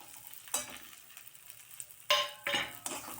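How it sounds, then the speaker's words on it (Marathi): Cluster bean masala mixture with salt, garam masala, turmeric and crushed peanuts is stirred in a pan, giving a few separate scraping, sizzling bursts with quiet gaps between them. "चांगले परतून घेऊया"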